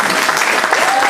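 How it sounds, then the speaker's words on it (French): A church congregation applauds its pastor at a tenth-anniversary celebration, a dense, steady wall of clapping that fills the whole moment up close. "Est-ce qu'on va applaudir le pasteur Sostène?"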